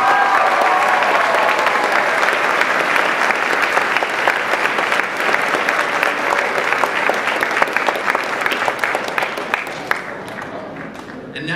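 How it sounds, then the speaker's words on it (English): Sustained loud applause from a large audience at a high school graduation ceremony, dense steady clapping that continues for several seconds before tapering off near the end. "please join me in thanking your parents for the huge round of applause"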